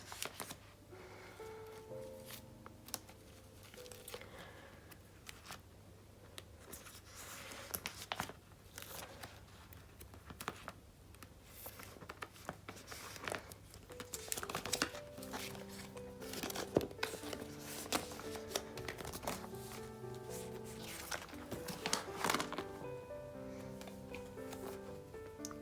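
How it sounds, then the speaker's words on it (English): Photocards being slid and shuffled into plastic binder pages, a steady run of close crinkling, rustling and tapping with sharper plastic snaps, busier toward the end. "we'll just put the unit cards on their own separate page for now"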